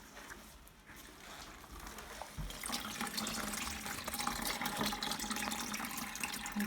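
Liquid honey from wax cappings and comb streams out of a straining bag as it is drawn up, a quiet trickle that swells after a few seconds into a louder, steady pouring and dripping.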